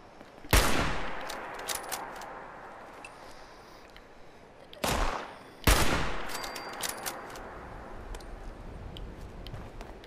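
Gunfire in the Fallout 76 video game: three sharp, loud shots or short bursts spaced apart, with rolling echo tails between them and a faint background ambience.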